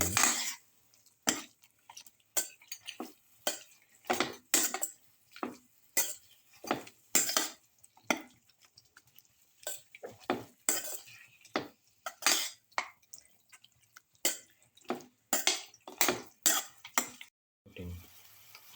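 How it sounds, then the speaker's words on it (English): A spoon stirs lamb casserole ingredients, giving a close, steady run of scraping clinks against the pot in a regular rhythm, with no talking. "Thoroughly mix."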